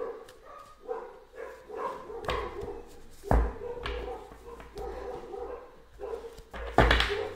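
Dogs barking excitedly in repeated bursts, some yips and whimpers mixed in, fairly close with background noise between barks.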